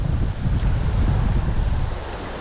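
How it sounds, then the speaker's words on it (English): Strong wind gusts buffet the microphone beside a trout river near Melbourne, a loud, continuous low rumble that swells slightly and eases toward the end. "just as that wind kicks in"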